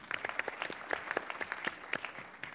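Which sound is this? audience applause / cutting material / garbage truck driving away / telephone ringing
audience applause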